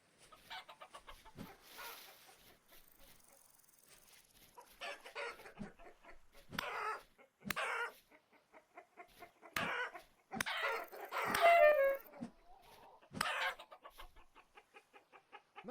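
Chickens in the video game Vintage Story cluck and squawk in short bursts, with a few sharp thuds and clicks between calls, fairly close with no speech.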